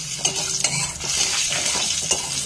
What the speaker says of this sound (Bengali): এবার ওই তেলেই আমি কতগুলো বড়ি ভেজে নেব।